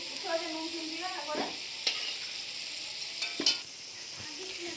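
Potatoes fry in oil with a soft, continuous sizzle and a few clinks of stirring, while someone speaks over it at the start and end.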